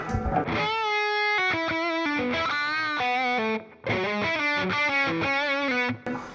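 Electric guitar played through a switched-on distortion effects pedal: heavily overdriven chords and held notes, strummed in bursts with a short pause midway, loud and close with no talking.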